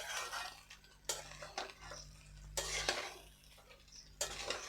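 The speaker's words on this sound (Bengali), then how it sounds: "উল্টিয়ে পাল্টিয়ে মিশিয়ে নেব" Fried rice is turned and mixed in a pan with a spatula, giving soft scraping strokes and occasional sharper knocks over a faint sizzle, fairly quiet and close, without speech.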